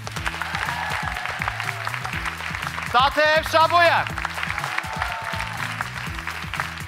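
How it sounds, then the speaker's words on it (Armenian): An audience at a song premiere final applauds the song's authors, a burst of clapping from a crowd that swells briefly in the middle under a presenter speaking over it. "եկեք արդից օգտվելով ծափահարենք եւ ողջունենք մեր հեղինակներին"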